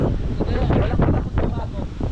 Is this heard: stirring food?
no